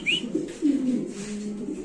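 A pigeon at a Lahori pigeon farm gives a short, throaty coo close by, a single soft rolling call over quiet background.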